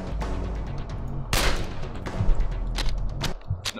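Gunfire in Half-Life as an enemy is shot: a series of loud, close shots at uneven intervals, one heavy blast standing out, set against a steady rumbling game backdrop.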